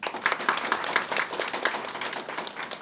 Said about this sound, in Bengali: একটু করতালি হবে।